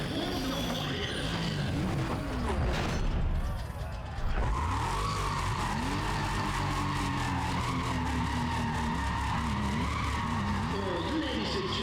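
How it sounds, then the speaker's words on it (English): Race car in Need for Speed ProStreet, engine roaring and revving hard while tires skid and squeal continuously, loud and close throughout. "will you just listen to the raw madness of that engine?"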